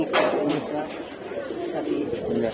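Soft cooing of racing pigeons in a loft, a few low throaty calls rising now and then over a quiet background.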